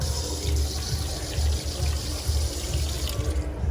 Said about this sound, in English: I've never been to a bathroom where you have to do this to turn the water on.